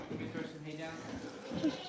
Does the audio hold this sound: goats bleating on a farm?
yes